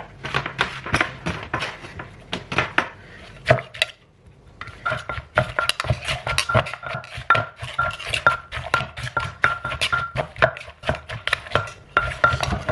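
Shredded green papaya is pounded into Thai som tam in a mortar, giving rapid, loud, rhythmic thuds and knocks with brief pauses and a short gap early on, and no voices over them.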